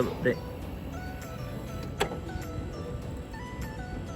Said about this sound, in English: you can hear the little motor working